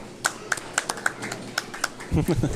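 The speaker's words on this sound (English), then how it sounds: "Where's his round of applause?" Scattered hand claps from a small audience at a candlepin bowling tournament broadcast, sparse and uneven over a couple of seconds, with a voice speaking near the end.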